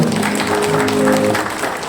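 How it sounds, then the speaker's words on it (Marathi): Applause from an audience at a gathering of Satara district MS-CIT computer training centres, a steady dense patter of clapping throughout with a voice faintly present underneath. "अशा सर्वांसाठी एकदा आपण जोरदार टाळ्या वाजवूया"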